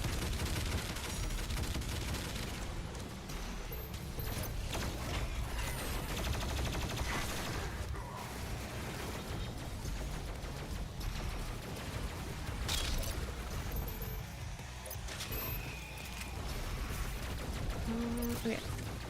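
Dense, continuous video-game gunfire rattles nonstop, with overlapping bursts and booms forming a loud, steady barrage across the whole stretch.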